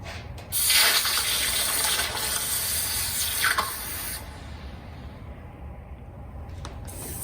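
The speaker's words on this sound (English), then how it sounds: "I'm gonna take it, we're gonna quench it in water. It's 1018 steel." Red-hot 1018 steel plunged into water for quenching gives a sudden loud hissing burst that eases into a fainter, steady sizzle and bubbling, with no talking.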